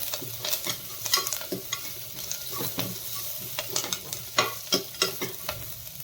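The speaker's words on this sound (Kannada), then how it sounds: "ಈ ಸಾಸಿವೆ ಚಟಪಟ ಅನ್ನುವಾಗ ಹಸಿಮೆಣಸಿನ್ಕಾಯಿ ಹಾಕೊಂಬಿಡಿ" Mustard seeds and green chillies sizzling in hot oil in a pan: a close, soft hiss broken by irregular popping crackles and stirring clatters, with no talking.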